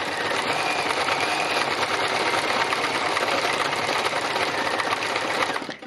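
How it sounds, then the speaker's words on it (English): Sewing machine stitching through layers of fabric with neutral thread, a fast continuous mechanical whir and needle chatter, close and steady until it stops at the end. "I'm just going to keep adding layers of stitching to it, different colours"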